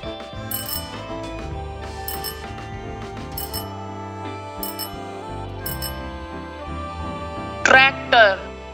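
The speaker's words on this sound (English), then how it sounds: "Bicycle." A bicycle bell rings several times in quick bright trills, spaced out over background music, followed by a short spoken word near the end.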